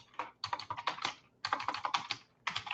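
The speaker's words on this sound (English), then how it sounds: "by typing in their name" Typing on a computer keyboard while entering a contact's name: three close, rapid bursts of clicking keystrokes separated by short pauses, with no voices.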